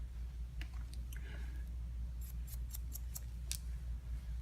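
Scissors snip through hair during a salon haircut, a few quick crisp cuts followed by a rapid series of sharp snips, close up over a low steady background hum.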